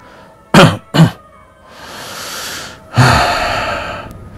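A voice makes two quick throaty coughs, then a long breathy exhale and another drawn-out rasping throat sound, close and loud, imitating someone clearing their throat.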